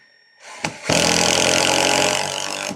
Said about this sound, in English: So that's why we drill before we put these lug screws in.